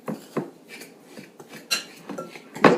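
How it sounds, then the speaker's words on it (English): Sugar and salt stirred together in a bowl for curing salmon with dill, giving a series of irregular scraping and clinking strokes of a utensil against the bowl, close and fairly quiet, with no talking. "Mix it well, and then you're going to lay it on the salmon"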